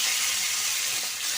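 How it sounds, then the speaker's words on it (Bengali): Small fish frying lightly in hot oil on a home stove, giving a steady, even hiss of sizzling that runs unbroken and fairly close. "তো আমি এই পাশে চুলায় তেল দিয়ে দিছি, দিয়ে যে মাছগুলো ভেজে নিব হালকা।"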